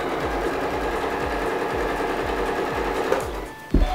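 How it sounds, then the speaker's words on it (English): A sewing machine stitches quilt strips in a steady, rapid mechanical whir with a regular thumping rhythm, close and loud, then stops with a brief clunk at the end. "And then we just start sewing."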